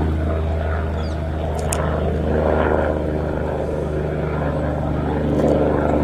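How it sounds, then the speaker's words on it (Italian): A yellow helicopter flying nearby, a steady low droning engine and rotor hum with a constant tonal rumble, loud and continuous with slight swells in intensity over its length. "C'è un elicottero"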